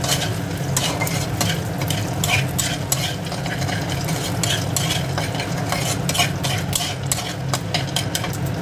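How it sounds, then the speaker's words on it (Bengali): Whole garlic, dried red chillies and peanuts sizzle in hot oil while a spoon stirs them around the pan, with continuous frying hiss and repeated scraping strokes throughout, close and fairly loud. "গোটা রসুন দিয়ে দিলাম, তার সঙ্গে দিয়ে দিলাম শুকনো লঙ্কা আর বাদাম। ভালোভাবে একটু নেড়ে চেড়ে দেবো।"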